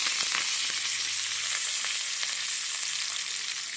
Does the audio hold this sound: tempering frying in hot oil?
yes